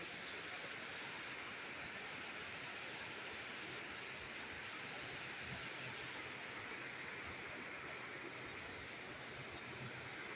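Muddy floodwater rushes down after a landslide at Kovil Kanda, Mahantegama near Mawanella, a loud, continuous, steady roar of turbulent flowing water that fills the whole stretch without pause.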